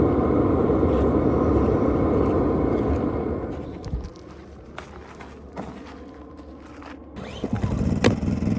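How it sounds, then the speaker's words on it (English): A diesel heater exhaust outside a winter 4x4 camping truck gives off a steady, jet-engine-like roar. It sounds loud at first, drops to a quieter rumble midway, then surges again near the end. "you can hear in the background that jet engine sound. That's our exhaust for our diesel heater"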